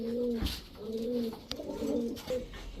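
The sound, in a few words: club racing pigeons cooing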